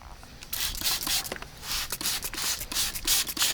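Gritty, wet rubbing strokes of sandpaper wet-sanding a headlight lens repeat in an uneven back-and-forth rhythm, close and fairly quiet.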